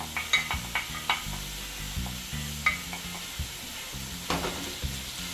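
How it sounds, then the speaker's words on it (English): Seasoning and saltfish sautéing in a pan, with a steady sizzle of frying and repeated scraping stir strokes close by, no voices. "while my natural season is being sauteed, I'll go ahead and add my saltfish"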